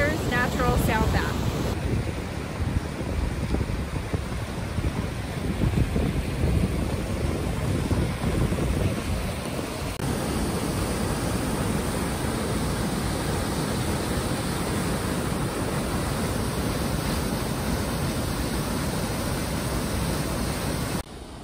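Steady, loud rushing water of a waterfall at Mammoth Lakes, California, roars continuously throughout, a dense broadband wash with no voices.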